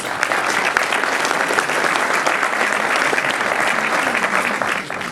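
Steady, loud applause from an audience at the opening evening of the Cinémondes film festival in Berck, dense hand-clapping holding for several seconds before tapering off at the end.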